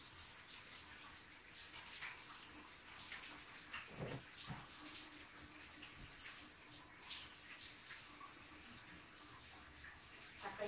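Hot water running into a bath, a quiet steady splashing stream with faint intermittent drips and knocks, heard alone without talk.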